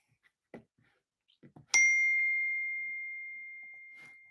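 A single bright phone notification ding rings out clearly and decays slowly over a few seconds, following a few faint soft knocks in an otherwise quiet room.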